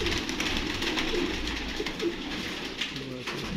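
Pigeons coo steadily in low, throaty rolls, several birds close by with a continuous murmur of background noise.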